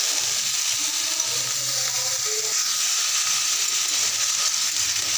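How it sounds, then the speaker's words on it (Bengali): Potatoes frying in a pan for a vegetarian aloo posto, giving a steady, close sizzle with a hiss of steam that runs evenly throughout, with no talking. "আলুটা লাল করে ভেজে নেব।"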